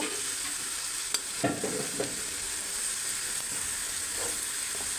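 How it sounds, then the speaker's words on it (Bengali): Spices with ground coriander fry for Kashmiri mutton rogan in a pan, giving a dense continuous sizzle and hiss with a few soft scrapes and taps of a spoon stirring, close and without voices. "এটাকে ভালোভাবে কষিয়ে দেব"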